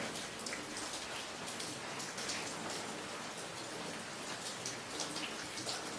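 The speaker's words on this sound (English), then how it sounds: "We're still in rainy season, so the rain is falling at will." Steady rain falls during the rainy season in Africa, a dense, even patter of drops on surfaces that holds for the whole stretch with no voices.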